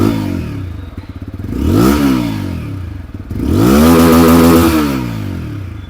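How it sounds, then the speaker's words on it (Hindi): A 2024 TVS Apache RTR 160 4V motorcycle with a bullpup exhaust idles with a rough, throbbing note, then is revved twice, each rev rising sharply and falling back, loud and close. "ये बुलपअप एग्जॉस्ट जो आप लोग को मिल रहा है इसका आवाज़ भी आप लोग सुन लीजिए"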